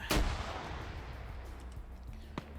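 Suppressive gunfire in an online multiplayer shooter match: one loud sharp shot opens, followed by a rumbling low tail and scattered fainter distant reports, with another crisp shot near the end.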